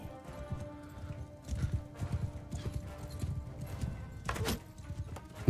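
Horse hooves gallop in a steady, rapid clip-clop rhythm in Mount and Blade 2: Bannerlord, running close and continuous with an occasional whinny-like burst and no talk over it.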